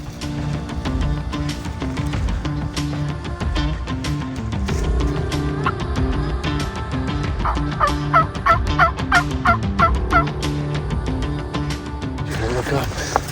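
Wild turkeys gobbling during a Colorado turkey hunt, repeated loud gobbles from a few birds over a steady outdoor background, with bursts of nearby calling partway through.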